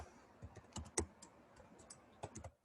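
Soft, close keystrokes tap on a computer keyboard in two quick bursts with a short pause between, entering code in RStudio, quiet and with no voice.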